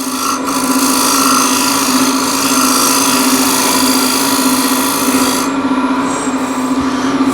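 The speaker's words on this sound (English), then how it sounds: "I'll use a shear scraper just to finesse it a little bit." Shear scraper finishing a wooden bowl on a woodturning lathe, a continuous loud whirring hiss of steel on spinning wood over a steady motor hum, close and unbroken.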